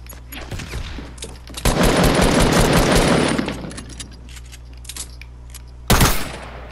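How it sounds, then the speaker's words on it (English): Gunfire in Fortnite, from a sniper rifle fired without scoping: a sustained loud burst of shots lasting about two seconds, then a single sharp loud crack a few seconds later. "I love no-scoping with this fucking gun."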